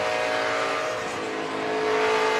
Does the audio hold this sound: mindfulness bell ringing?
no